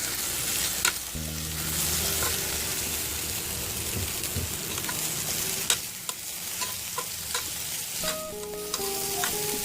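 Brinjal pieces for a masala curry being stirred and fried in a pan, continuous sizzling with repeated spoon scrapes and clinks against the vessel, close and steady.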